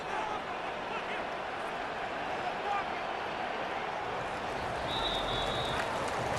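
Stadium crowd noise from a simulated Madden 26 NFL game, Chicago Bears against Detroit Lions, a steady dense roar of cheering that holds loud and even across the whole stretch, with a slight swell near the end.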